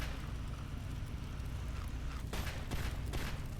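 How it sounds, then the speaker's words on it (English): Gunfire in the video game Fallout comes as a few short, sharp bursts of shots, distant and fairly faint, over a low rumbling ambience. "When the first thing I hear down here is gunfire, that is never a good sign."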